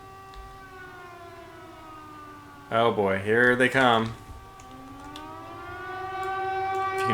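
Air raid sirens wail in the naval war game Victory at Sea Pacific, their steady, layered tones holding throughout and briefly dipping under a man's speech before swelling again toward the end.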